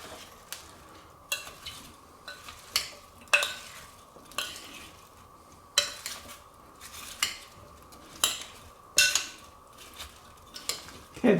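Potatoes being tossed with rosemary, olive oil and onions, a spoon scraping and clinking against a bowl in a steady series of about a dozen strokes, close and fairly quiet, with no talking.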